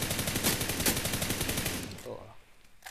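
Rapid automatic gunfire in the mobile shooter PUBG New State, fired while crouching, comes as a dense loud burst of shots for about two seconds and then breaks off into quieter game ambience.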